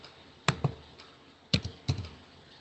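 Keys on a computer keyboard are struck in a few sparse clusters, two or three close clicks at a time, near and fairly soft against a quiet room.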